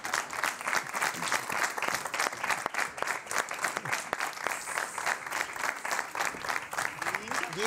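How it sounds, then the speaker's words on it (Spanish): Studio audience applauding a comedian being introduced on a Spanish entertainment talk show, dense steady clapping throughout with some voices mixed in. "Un aplauso para él."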